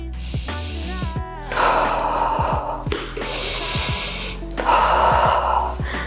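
Deep, audible breaths during a bridge or full-wheel backbend in a vinyasa yoga flow, with long inhales and forceful exhales surging in waves, close and fairly loud, alongside faint low thumps.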